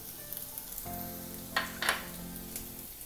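Onion and capsicum sizzle in a hot pan on high flame, a steady close frying hiss with a couple of louder bursts as the vegetables are stirred, no voices.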